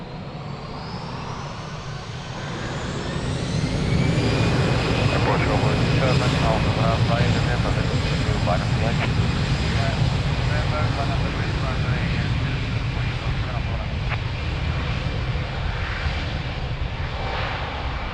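A fixed-wing airliner roars down runway 02 at Lisbon Airport on takeoff, its engine noise swelling to a loud, steady rumble and whine that holds throughout, while radio-style voices talk over it.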